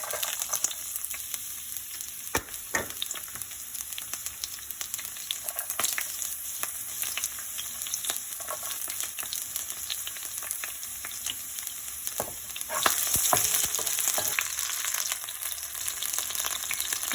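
Ginger, garlic and green chilli fry in hot oil in a pan for chilli chicken, giving a steady close hiss and sizzle with scattered pops and crackles that swell louder near the end, with no voices.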